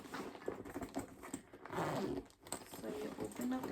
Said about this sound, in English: So you open up the zipper